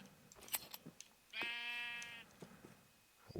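A Minecraft sheep bleats once, a clear harmonic wavering cry lasting under a second, framed by faint scattered clicks and footsteps in a quiet game world.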